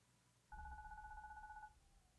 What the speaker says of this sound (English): The phone? Isn't that Naomi's cell phone